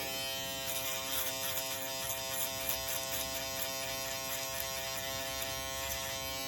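Electric hair clippers run steadily through hair during a self-haircut, giving a loud, close, constant buzzing drone that stays even throughout, with no talking.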